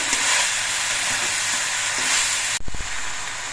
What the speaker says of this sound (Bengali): পটল পাতাগুলো সবজির সঙ্গে নেড়ে চেড়ে মিশিয়ে দিয়ে কিছুক্ষণ ভেজে নেওয়ার পর পাতাগুলো কিন্তু অনেকটাই মজে গেছে